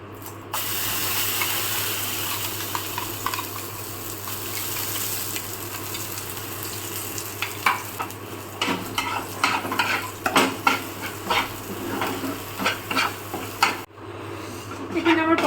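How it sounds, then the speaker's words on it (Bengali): Pointed gourd with turmeric, green chilli, garlic, dried chilli and nigella seeds sizzles in hot oil as a spatula stirs it, a steady fry hiss that gives way to irregular clattering scrapes near the end. "এবার তেলে নেড়ে নেবো"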